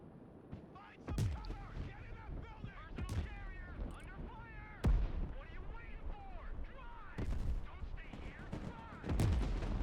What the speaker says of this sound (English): The artillery is just so brutal this game.